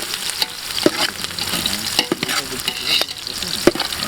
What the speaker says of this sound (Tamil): ஆனியனை போட்டு வறுத்து எடுக்க போகிறோம்.